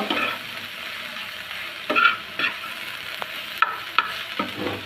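Betho greens stir-frying in a pan, a gentle continuous sizzle with periodic scraping strokes and light taps of the spatula, close up with no talking.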